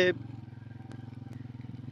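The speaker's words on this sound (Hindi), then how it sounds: "अब तो हम बाइक पे जा रहे हैं" A motorcycle rides through rural countryside near Jalalabad, outside Lahore. Its engine makes a steady, close, pulsing drone throughout, with a brief voice at the very start.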